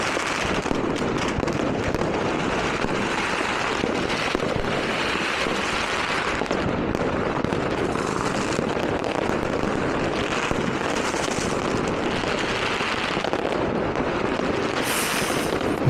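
Low-bursting fireworks going off on New Year's Eve, a dense, continuous barrage of crackles and booms that stays loud and unbroken throughout, with no voices on top.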